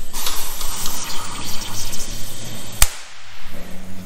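Water hisses and gushes steadily during work on a car's disc brake conversion, then cuts off sharply with a brief click near the end, leaving a quieter background.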